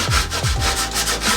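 A sticker is rubbed firmly onto the nose of a snowboard, giving a short series of close, dry scrubbing strokes in a quick back-and-forth rhythm, with no talking.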